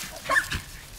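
A small Corgi gives a quick yip or short bark, brief and moderately close, with no talking over it.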